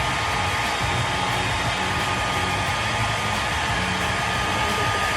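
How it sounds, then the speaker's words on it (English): A hair dryer blows steadily on a closure wig while the hair is molded, giving a loud, constant broadband whoosh that holds unchanged from start to finish with no talking. "And you want to blow dry it, mold it."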